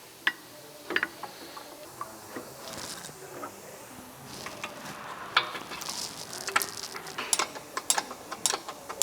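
Ratchet wrench clicking while bolting up a new brake caliper during a DBA electric park brake install, with scattered quick bursts of ratcheting and small metallic tool clatter at close range, no talking.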